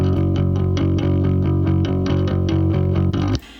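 Bass guitar track playing a steady, repeating pattern of plucked notes with a deep, even low end, loud and continuous, ending suddenly after a little over three seconds.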